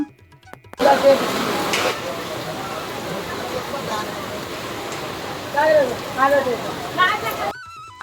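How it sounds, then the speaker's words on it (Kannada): Heavy rain pours down beside a river near a tea stall in Mantralayam, with rainwater rushing toward the river in a dense, continuous roar. Voices talk over it in the middle and near the end. "ನೋಡ್ತಾ ಇರ್ಬೋದು ಎಷ್ಟು ಬರ್ತಿದೆ ಅಂತೇಳಿ ಇದೆಲ್ಲ ನೀರು ನದಿಗೆ ಹೋಗುತ್ತೆ"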